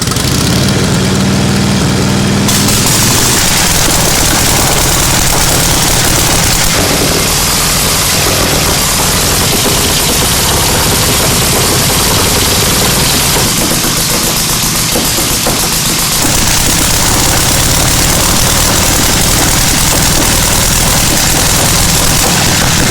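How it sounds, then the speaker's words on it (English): A 1936 Harley-Davidson motorcycle engine cranked and started, giving a loud, saturated, continuous mechanical roar that holds steady for over twenty seconds, close by with no talking over it. "He's going to crank up the 36 Harley"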